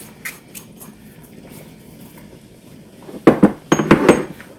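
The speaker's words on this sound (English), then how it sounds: "You want to stir that in." A spoon stirring a carrot and butter mixture in a dish in a home kitchen, quiet scraping at first, then a burst of loud clinks and scrapes against the dish toward the end.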